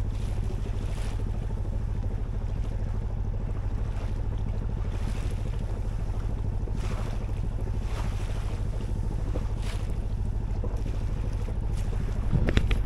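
A sailboat under way off the Isle of Arran in light, gusting wind, with steady wind rush over the microphone and soft water wash along the hull, a constant near drone that swells briefly at the very end.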